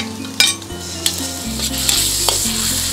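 Garlic frying in oil in a pan for fried rice, giving a loud, steady sizzle with a few sharp clinks of stirring at irregular moments.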